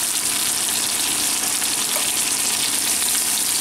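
Veal scaloppine fry in a very hot pan with a loud, continuous, close sizzle and no talking.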